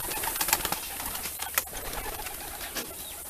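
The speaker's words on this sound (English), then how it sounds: "most of these guys are homing pigeons" Homing pigeons coo softly in a busy, noisy loft, with scattered short calls and rustling over a steady background hum.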